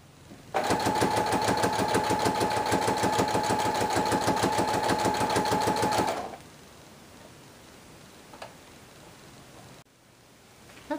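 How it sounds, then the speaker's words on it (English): A sewing machine stitches the seam of a homemade dog jacket in one loud, steady run of rapid, even needle strokes lasting about five seconds, then stops, leaving quiet room tone with a faint click. "I'm going to tuck the seam under, and I'm going to sew it on the side."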